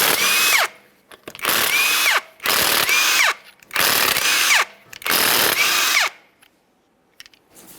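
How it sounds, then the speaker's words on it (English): Power tool spinning off 19mm lug nuts from a Ford Fusion wheel: five loud, close whirring bursts of about a second each, separated by short pauses, each ending in a falling whine, with no talk. "To remove your wheel, you have 5 19mm lug nuts. We'll get those out of the way"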